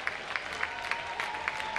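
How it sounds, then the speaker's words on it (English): Fairly faint clapping from a basketball arena crowd saluting Howard University student athletes, brief and thin with a few sharper claps rising out of the spread-out applause. "Let's give them a round of applause"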